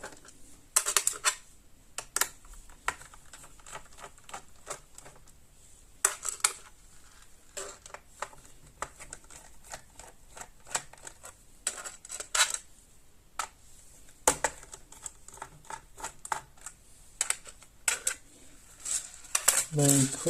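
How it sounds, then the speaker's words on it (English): Small screws being removed from the hard drive bay of a Dell Latitude E6320 laptop, with sharp metallic clicks and clinks in irregular bursts separated by quiet pauses, close up. "you've got 4 screws, 1, 2, 3 and 4, and we'll just take those out"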